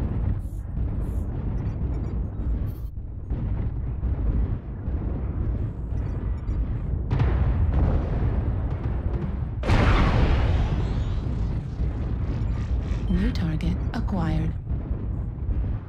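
Weapons fire and explosions in MechWarrior from an Awesome mech on Polar Highlands make a dense, continuous rumble of heavy blasts, with a louder burst about two-thirds through and a game voice speaking over the noise.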